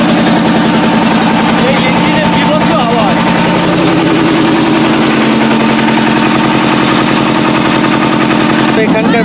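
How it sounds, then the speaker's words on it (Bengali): Engine of a passenger boat in a remote Sundarbans village, roaring loudly and continuously with a fast, rattling pulse that fills the whole stretch, close by and overwhelming. "আর ভেতরে প্রচণ্ড আওয়াজ, ইঞ্জিনের বিভৎস আওয়াজ"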